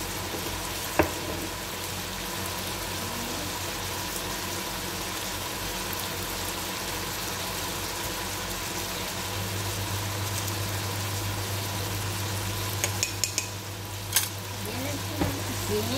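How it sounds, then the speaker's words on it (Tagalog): Mung beans tumble into a hot pan and keep sizzling, a dense, steady frying hiss with a few clinks and stirring scrapes, while a low engine-like hum runs beneath. "Tapos ilagay natin ang ating munggo."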